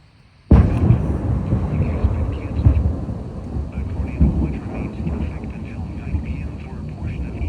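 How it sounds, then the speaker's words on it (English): Thunder from a positive lightning strike in a severe thunderstorm near Troy, Illinois, opening with a sudden loud crack and rolling into a long, heavy rumble over falling rain. "That was a positive lightning strike."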